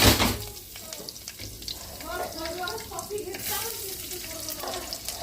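Curry leaves crackle and sizzle in hot ghee with cumin for a khichdi tempering, a bright steady frying hiss heard close by while someone talks over it.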